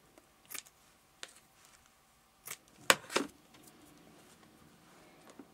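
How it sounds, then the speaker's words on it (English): Scissors snip through paper pieces at an angle, several sharp, crisp cuts spaced unevenly, close and fairly quiet, with no talking. "just cut these at an angle"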